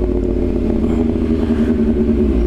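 A 2024 Kawasaki ZX6R sport motorcycle engine hums at a steady throttle during a ride, with a smooth, constant drone and light wind rustle and no talking.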